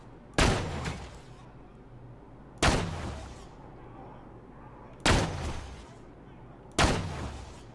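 Four heavy gunshots ring out in Borderlands 2, each a sharp crack with a rolling tail, spaced about two seconds apart over a quiet background.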